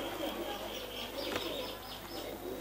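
Chanar-breed pigeons coo faintly with a few soft chirps over a constant background hum, with no talking.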